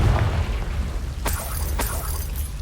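A Confringo blast curse goes off in the video game Hogwarts Legacy as a deep booming explosion, followed by two sharp cracking bursts over a low rumbling game soundscape.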